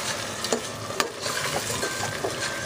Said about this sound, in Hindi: तो हम थोड़ा सा भूनेंगे।